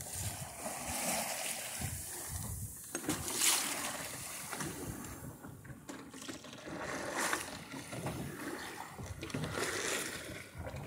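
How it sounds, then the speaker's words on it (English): Steady roar of surf breaking off White Island, heard from aboard the sailing vessel Centennial under way with its flying jib set, a broad wash of water noise with creaks and knocks from the boat. "this is the roar of the surf you can hear"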